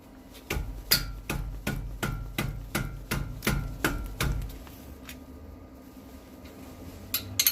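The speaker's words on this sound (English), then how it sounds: "Gonna start by removing this caliper bolt." A wrench working a 17 mm front brake caliper bolt on a Honda Pilot with the wheel removed: about a dozen sharp, close metallic clicks in a steady rhythm, then a quiet pause.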